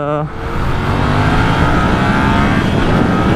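A Yamaha MT-07 motorcycle with ABS accelerates hard on the road, its twin-cylinder engine rising in pitch after a brief gear change, loud and close with strong wind rush over the rider's microphone.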